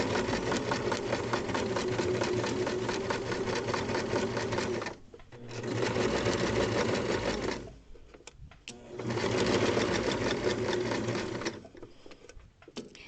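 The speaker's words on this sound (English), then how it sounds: "I'm just sewing right on my line, taking my pins out as I go" A sewing machine stitches fabric along a marked line, running in three long steady bursts of rapid mechanical whirring and chatter, close and loud, separated by brief pauses with small clicks and no talking.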